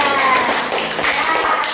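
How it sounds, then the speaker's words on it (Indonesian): Classroom students clap for group 3 after its presentation, a brisk patter of hands filling the room, while a teacher speaks over it. "Oke, tepuk tangan untuk kelompok 3."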